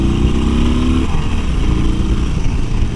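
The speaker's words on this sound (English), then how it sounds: "let's downshift real quick" A 2018 Harley-Davidson Iron 1200 Sportster rumbles steadily up close, its engine note dropping through a downshift early on before settling into a continuous loud drone with wind noise.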